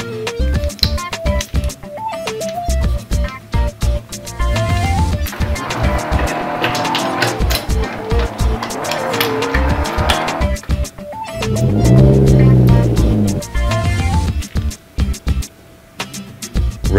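A toy race car zips along close by, its motor whirring in bursts with rising and falling pitch and a sustained squealing passage near the end, alone without talk.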